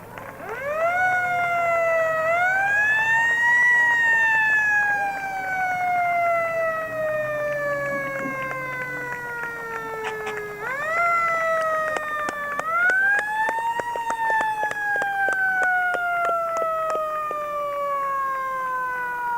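Fire engine siren from the Middleton fire department in a town anniversary parade in Wilmington, Massachusetts, wailing up and down in two long sweeping cycles, loud and close, with a few sharp horn blasts on top.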